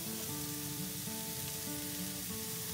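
Fish sauce and soy sauce hit a hot frying pan for plant-based Thai basil chicken, giving a soft, steady sizzle with a faint hum underneath, quiet and with no talking.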